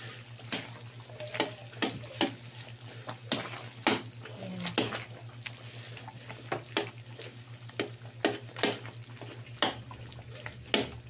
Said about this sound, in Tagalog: Latik, malapit na marisiko. Lagyan natin yung ating malagkit.